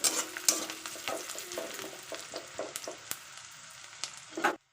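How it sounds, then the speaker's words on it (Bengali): Chopped medium onion fries in mustard oil in a wok while being stirred, with a close sizzle and repeated scraping strokes that stop abruptly at the end, no speech. "পেঁয়াজটাকে ভালো করে নাড়াচাড়া করে নেব।"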